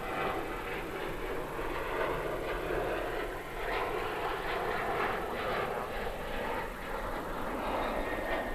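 A plane at DFW Airport at night roars steadily in the distance, a broad continuous engine rumble that swells slightly midway.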